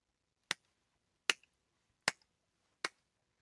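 A slow clap: four single sharp hand claps spaced evenly about 0.8 seconds apart, close and isolated against near silence.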